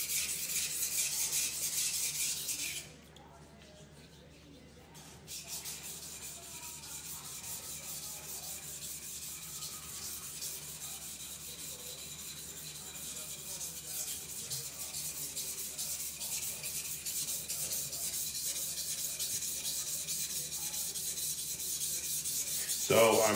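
A knife blade is polished by hand with continuous, steady rubbing strokes, a dry rasping hiss that drops away briefly and then resumes at an even level.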